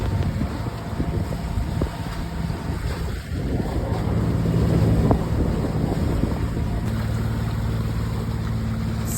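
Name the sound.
sailing yacht motoring with wind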